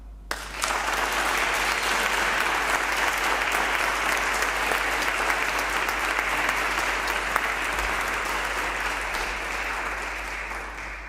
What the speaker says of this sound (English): give a round of applause for the parents, partners, friends and family members and college staff who helped you reach this milestone